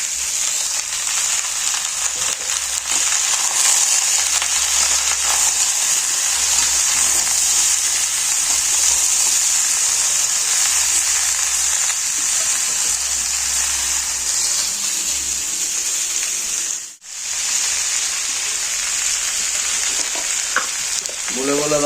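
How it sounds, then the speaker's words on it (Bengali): Potatoes, sweet potatoes and eggplant fry in a pan for a home-style pui shak ghonto, giving a loud, continuous hiss and sizzle that runs unbroken apart from one brief dip near the end. "কিছুক্ষণ এগুলো কিছুক্ষণ ভাজবো।"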